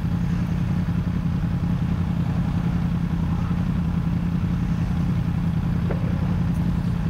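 Several motorcycles rumble steadily as riders set off together for a biker meeting near the Bikers Rast in Dattenfeld, a continuous close engine drone with no talk.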